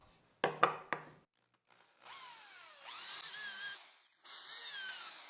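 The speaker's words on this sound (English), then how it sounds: "For these holes, I will use a 2 millimeter drill bit and countersink them with a 6 millimeter bit." A few sharp knocks on wood come first. A power drill then whines as it runs a 2 mm bit into a wooden woodworking gift piece, followed by a short countersinking pass with a 6 mm bit, heard alone at close range.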